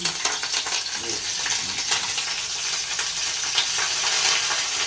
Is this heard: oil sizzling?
yes